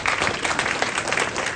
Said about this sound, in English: So if we get a round of applause for that.